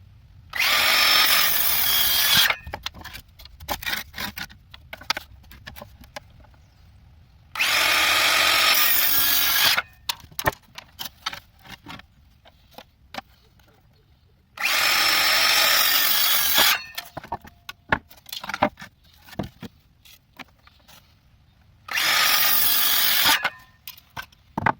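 Power saw cutting timber wall plates to length for shed side-wall framing, heard in four loud whining bursts of about two to three seconds each, separated by quieter gaps with handling knocks and clatter.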